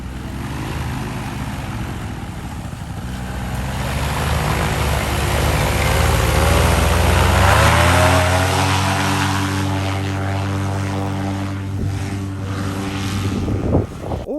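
Paramotor engine applying power during takeoff, a loud propeller drone whose pitch climbs steadily as power comes on, then holds at a high roar, close by.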